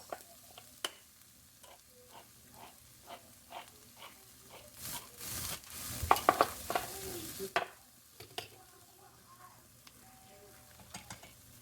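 Tomato sauce pours into a hot pan and sizzles, a brief louder burst of hissing among scattered spoon taps and stirring clinks on a quiet stovetop.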